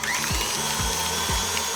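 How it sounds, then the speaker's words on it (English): Stand mixer running on its highest speed with a balloon whisk attachment, whipping crystallized honey into creamed honey; a steady loud motor whir with rhythmic low thumps roughly every half second, with no voices. "using your balloon whisk attachment on your mixer"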